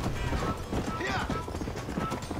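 Horse hooves clip-clop at a steady walking pace in the Western video game Red Dead Redemption, sitting under ongoing game sounds with brief voice-like whinny tones.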